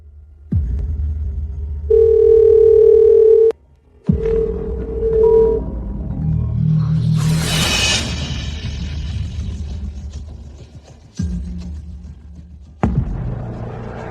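A mobile phone rings with a steady electronic tone that cuts off abruptly, followed by low rumbling and a brighter noisy burst in a dramatic scene.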